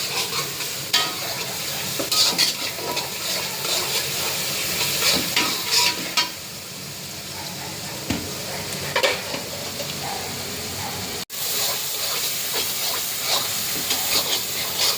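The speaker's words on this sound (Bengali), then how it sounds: "পেঁয়াজটা একটু ভাজা ভাজা হোক।" Onions fry with salt in oil in a pan while loitta fish is cooked: a continuous loud sizzle and hiss, broken by scraping stirs and utensil clatter, with one sharp clack near the end.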